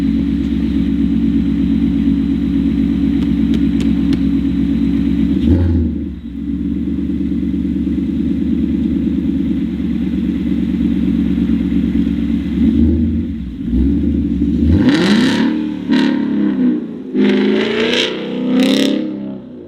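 A Ford Mustang idles with a low steady rumble before the engine is blipped in several sharp rising revs near the end, with traction control switched off, heard up close in a snowy setting.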